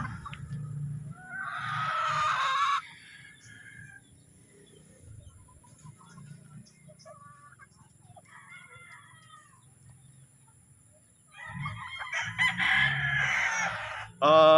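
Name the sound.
rooster crowing, sweater cross gamecock breed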